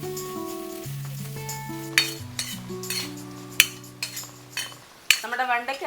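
Coconut fries in a pan for homemade sambar, giving a soft sizzle beneath a series of sharp metal spoon clinks and scrapes as it is stirred, the strikes irregular and growing busier toward the end.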